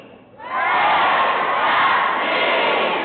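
A large crowd of district members at an Iowa high school speech festival shouts together in one loud, sustained roar that swells suddenly after a quiet start and holds steady to the end.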